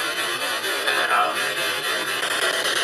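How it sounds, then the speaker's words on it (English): A spirit box app sweeping through radio stations gives a dense, hissing wash of static and white noise, continuous and fairly loud with faint flickers of broken tones across the sweep. "It sweeps through radio stations"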